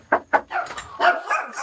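A dog barks twice in quick, sharp succession close by, followed by muffled movement and further softer voicing or talk-like sounds.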